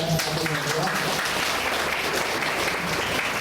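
An audience at a training institute event gives a hearty round of applause, dense, continuous clapping that stays loud and even from start to finish after a brief voice at the very beginning.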